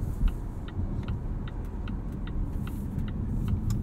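A 2021 Volvo S90 Recharge T8 Inscription plug-in hybrid accelerating at full throttle, heard from inside the cabin as a steady, muffled low rumble with faint ticking over it and no voices.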